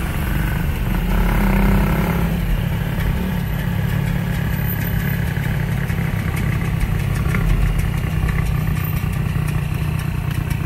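A motor vehicle engine runs steadily throughout, a low continuous rumble with a faint metallic clatter, close by and with no voices.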